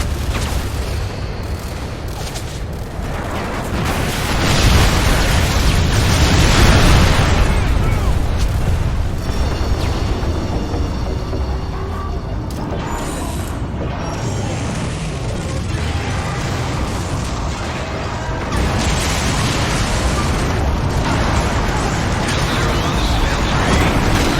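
Bombs exploding around the Eiffel Tower in Paris: a dense, continuous roar of deep rumbling blasts and bursts lasting throughout, loud and sustained with little let-up, swelling in the middle and near the end.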